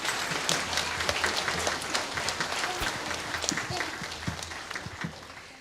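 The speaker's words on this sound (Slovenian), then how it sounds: "Dajte ji še en aplavz." Audience at a local community holiday celebration in Turiška vas, Šmartno and Legen applauding a young schoolgirl soloist: steady, dense clapping throughout, fairly close and sustained without pause.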